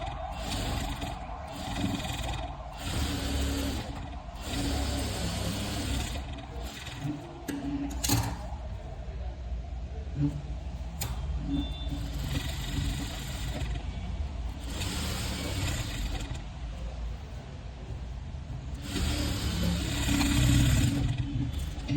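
A sewing machine runs edge stitching on a cut-work aari-work blouse, whirring in bursts that stop and start again with short pauses, steady and close, with no voices.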